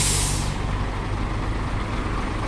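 Air brakes on a tourist bus pulled up in front of a hotel let out a sharp, loud hiss at the start, fading into a steady low idling rumble with no talk.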